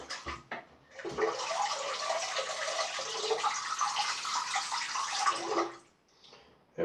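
Water from a tap runs over a Wilkinson Sword Profile cartridge razor in a steady, close hiss and splash for about five seconds before stopping.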